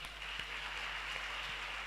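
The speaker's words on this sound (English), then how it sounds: "Everyone give a round of applause for him." An audience at a school symposium closing ceremony applauds with steady, faint, distant clapping that continues throughout.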